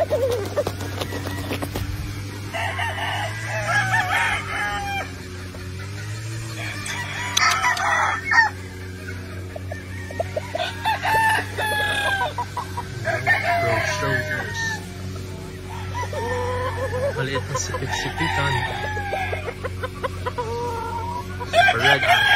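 Super red Kelso bloodline gamefowl rooster crowing at a game farm, several loud, close crows with clucking between them over a steady background hum, and someone speaking at times.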